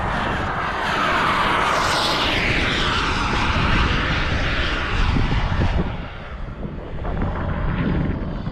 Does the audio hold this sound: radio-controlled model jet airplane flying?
yes